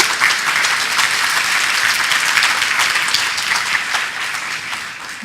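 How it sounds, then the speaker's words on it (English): An audience at a developer conference talk gives sustained, even applause: dense clapping from many hands fills the room throughout, with no talking over it. "At this place, you need a warm applause first."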